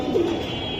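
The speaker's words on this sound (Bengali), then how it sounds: "লাট্টু মাথার কবুতর" A Silver Giribaz pigeon gives a single short, close coo, alone and fairly clear.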